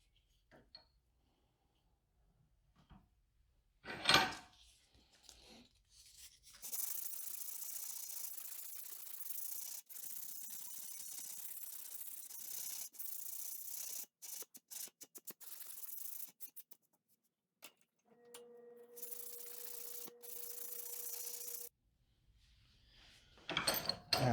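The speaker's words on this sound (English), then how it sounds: "Now we can hit it with the sandpaper and get it rounded out." Sandpaper rubbing a carved wooden stick fishing bait, long sustained rasping strokes with short pauses, close and fairly loud, bracketed by quiet handling noises.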